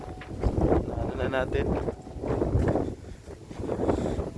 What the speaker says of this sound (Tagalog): Pasensya na, lakas ng hangin.